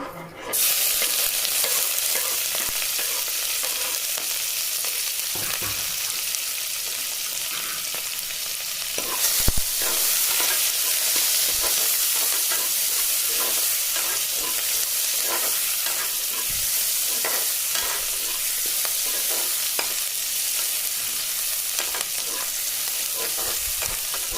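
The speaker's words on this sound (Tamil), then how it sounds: "பெரிய வெங்காயம் ஒன்று கட் பண்ணி வச்சுருக்கேன் போட்டு தாளிக்கிறதுக்கு அதை போட்டு தாளிச்சுக்கலாம்" Steady loud sizzling of a chopped large onion frying in hot oil for chicken kulambu, with occasional stirring scrapes and a brief louder crackle partway through.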